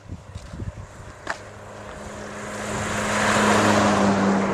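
A vehicle approaches from a distance, its engine hum swelling steadily into a broad rushing roar as it nears.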